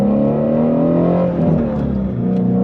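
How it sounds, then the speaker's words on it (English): A 2020 Ford Shelby GT350R Heritage Edition engine revs close and loud, its steady harmonic drone climbing and dipping in pitch, with no talking. "This girl, she loves to rev, and she just wants more and more and more."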